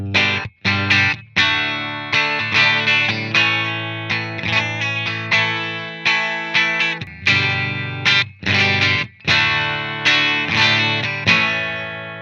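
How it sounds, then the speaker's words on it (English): An electric guitar plays strummed chords and picked phrases through a Peavey Valveking 20 tube amplifier on its clean channel, loud and close with a rhythmic pattern of ringing chords and brief pauses. "Let's listen to that on the amplifier's clean channel."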